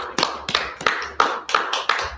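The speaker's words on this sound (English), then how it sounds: "Clap it up for the brother." Hands clap in a class at a slow, even beat, six or so sharp, close claps spaced about a third of a second apart, with no talking.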